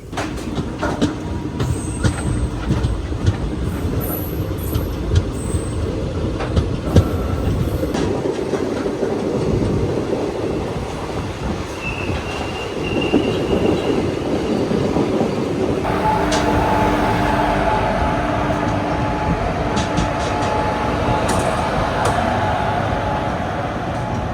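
A train runs from Kerala toward Bangalore via Dharmapuri, passing Omalur junction, with the carriage's steady loud rumble and rhythmic wheel clatter on the tracks heard from inside for the whole stretch, intensifying slightly in the later part.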